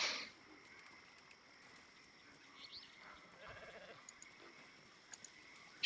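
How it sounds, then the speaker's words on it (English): A sheep bleats faintly and briefly in a Baldur's Gate 3 game scene, a soft bleat or two rising over quiet ambient background, with no talk. "That sheep was quite good at saying bah."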